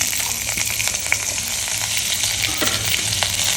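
Pirandai (adamant creeper) fries in oil in a pan with a loud, steady, close sizzle and crackle, soft stirring scrapes mixed in, and no talking.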